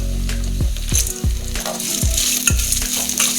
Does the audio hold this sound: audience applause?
no